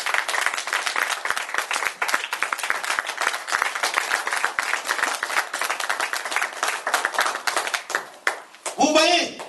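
A church congregation applauds with steady, dense clapping lasting several seconds, ending with a brief voice near the close.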